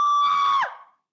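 A single voice lets out a loud, sustained high-pitched scream on cue for the show Let's Scream, holding steady for about half a second before bending downward and fading out.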